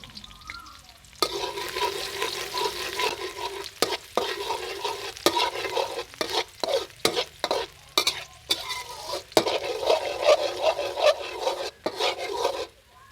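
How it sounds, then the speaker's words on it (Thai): Minced garlic sizzles in hot vegetable oil while a utensil repeatedly scrapes and stirs the pan, clattering in irregular strokes close by. "จากนั้นก็ใส่กระเทียมสับลงไปผัดให้หอมก่อนครับ"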